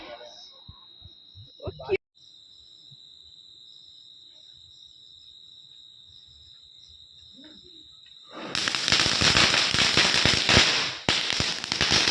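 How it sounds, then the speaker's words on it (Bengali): Firecrackers set off by family members during Kali Puja night burst in a dense, loud crackling volley after a stretch of quiet with crickets and a steady whine, and voices can be heard. "আমার শাশুড়ি আর আমার হাজব্যান্ড বাজি ফাটাচ্ছে"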